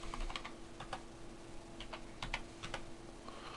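Soft, steady clicking of keys on a computer keyboard, a few short bursts of keystrokes at close range over faint background hum, no voices.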